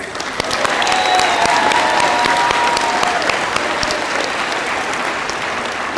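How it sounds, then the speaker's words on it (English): At a 2019 school graduation ceremony, the audience gives a sustained, loud round of applause, dense and even throughout, with a faint cheer or whistle early on. "let's give a round of applause to our supporters"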